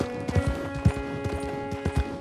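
Hooves of a horse in Red Dead Redemption 2 clip-clop in a steady walking rhythm, with regular thuds at close range over a soft background hum.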